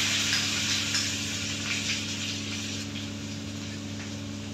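A crushed paste of cumin, green chili and ginger sizzles steadily in hot oil tempering with curry leaves, a loud, close, continuous frying hiss that eases slightly toward the end.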